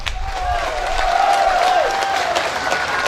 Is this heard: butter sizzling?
no